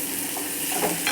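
Capsicum gravy stirred in a hot pan, a steady sizzle with a soft utensil scrape near the end, close and continuous.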